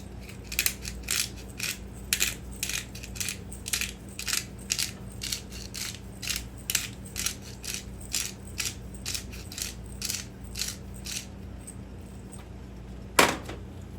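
A pepper mill grinds black pepper in a kitchen, giving a series of rhythmic crunching, ratcheting twists up close, followed by a short sharp knock near the end.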